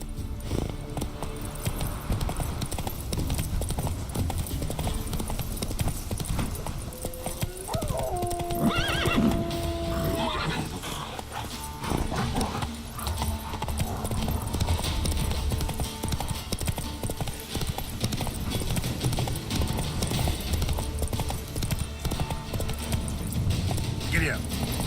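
Horse hooves clip-clop in a steady galloping rhythm in the Witcher 3 video game, with a whinny partway through and a person talking over the hoofbeats for much of the stretch.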